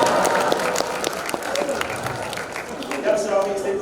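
An audience at a corporate comedy-style event applauds married couples who both work at Kemenkeu, with scattered claps over a busy crowd murmur and some voices talking through it.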